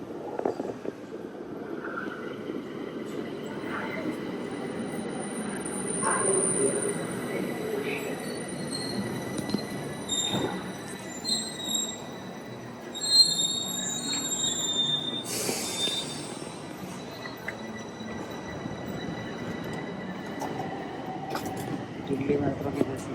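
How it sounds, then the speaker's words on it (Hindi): A Bucharest metro train pulls into the station platform, its wheels squealing and rumbling at moderate volume, with rising high-pitched screech toward the end, under station ambience and occasional voices. "और ये देखो अपनी ट्रेन आ गई है, अब इसमें बैठ के चलते हैं"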